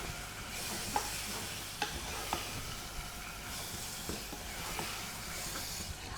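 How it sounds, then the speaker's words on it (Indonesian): Sambal frying in a generous amount of oil while being stirred, a steady close sizzle with a few sharp scrapes and clicks of the spoon against the pan, no voices. "Aduk-aduk ya teman-teman."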